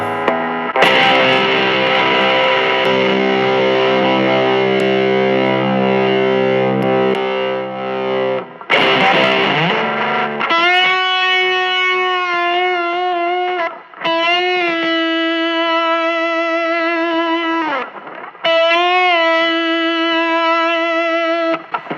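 Heavily distorted, fuzzy electric guitar through an Angry Hornet or Surfy fuzz pedal at low volume plays long sustained notes and chords, then wavering bent single notes that ring on with thick buzz.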